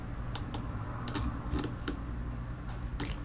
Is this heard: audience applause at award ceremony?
no